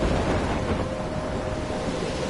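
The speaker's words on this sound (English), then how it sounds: "I'm trapped in a storm?" Storm wind and crashing waves in the video game Life is Strange, a steady, dense roar of gusting wind and surf with no talking.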